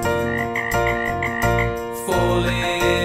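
Speckled frogs croak loudly in a children's song about frogs on a log. The croaks come as a steady rhythmic series of repeated calls over music, with no voices.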